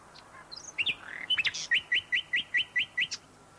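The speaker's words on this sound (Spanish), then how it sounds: "Las aves que cantan en primavera están en realidad reclamando un territorio" A spring songbird sings nearby and clearly, with a few varied opening notes and then a quick, even series of about eight repeated chirps over a quiet background.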